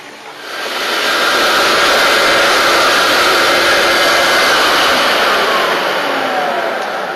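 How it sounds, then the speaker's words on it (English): Wet vacuum sucking up floor stripping solution along the edges of a floor, a loud, steady roaring hiss that starts just after the opening and holds at full strength throughout, with no voices. "Now I'm vacuuming up the solution along the edges."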